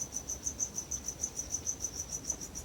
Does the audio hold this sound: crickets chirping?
yes